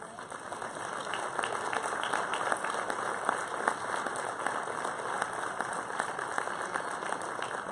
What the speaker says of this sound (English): Let's give all of our senior athletes a round of applause.